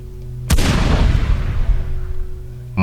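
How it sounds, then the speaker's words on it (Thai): A single sharp gunshot cracks out loudly, followed by a long, rumbling echo that slowly fades, with a low steady hum underneath. "มีเสียงปืนดังขึ้นมาหนึ่งนัด"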